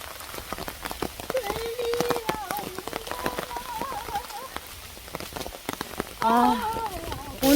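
Rain patters steadily on a surface at Sudeoksa Temple in Korea while people talk nearby, their voices rising over the drumming drops.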